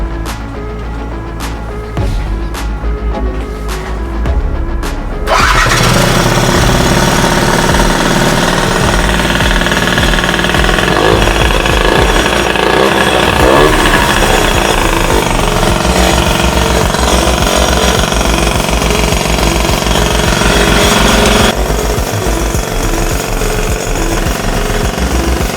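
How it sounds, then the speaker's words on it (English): A Yamaha Passola scooter fitted with a swapped 3KJ two-stroke engine cranks with several rapid starter bursts, then fires and runs with a loud, buzzing, rattly idle for about twenty seconds, close by. "if we press our magic little starter button, I think we're in a position to actually start this bike again."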